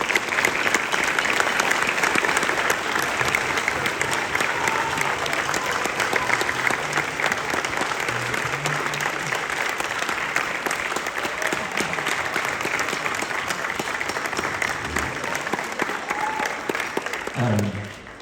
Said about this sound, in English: give it a huge thank you, round of applause to Dr. Burger.